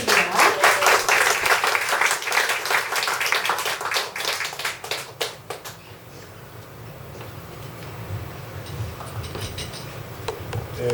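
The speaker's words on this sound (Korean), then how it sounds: "다시 한 번 더 큰 박수 부탁드리겠습니다." Audience applause at a poetry book concert, crisp clapping that is loud at first, then thins and dies away after about six seconds, leaving room tone.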